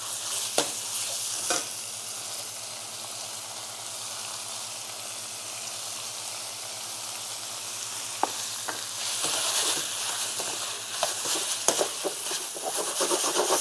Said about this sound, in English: Then you add all the vegetables that you already prepared.